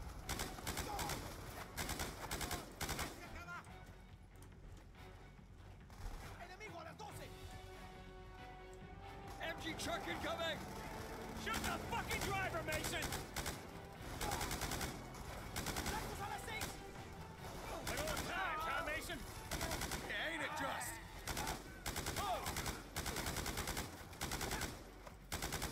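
Continuous gunfire from a weapon in the Black Ops 2 campaign, dense repeated shots mixed with battle ambience and music, with a person talking over the action throughout.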